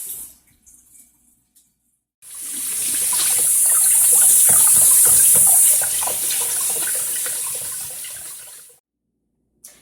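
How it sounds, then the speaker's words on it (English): Warm tap water runs over seeds in a large strainer, a steady hissing gush that starts after a quiet moment and pours on for about six seconds, close and loud, with no talking. "I used a larger strainer, and I ran warm water over it, as you saw"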